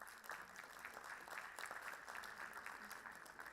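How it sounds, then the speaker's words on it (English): Faint, steady applause from the audience at a printing engineering department event at an Indian college, continuous clapping heard at a distance through a thin, muffled live-stream feed. "So a round of applause for them."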